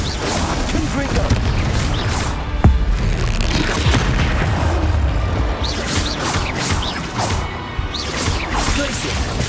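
A Confringo blasting spell explodes in the Hogwarts Legacy video game, a loud boom with a sharp crack amid dense, continuous spell effects, whooshes and bangs, with a voice speaking over the action.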